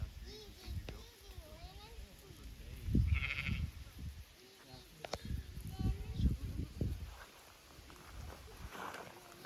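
A herd of goats grazing on brush pasture bleats intermittently, a few calls near and others farther off, against steady outdoor background noise.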